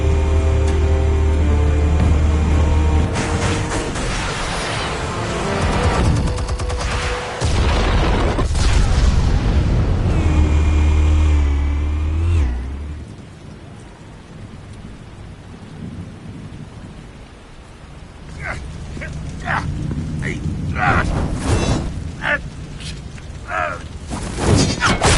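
Explosions in Batman: The Telltale Series: heavy, rumbling booms and deep low blasts fill the first half, then fade to quieter crackling and scattered sharp hits.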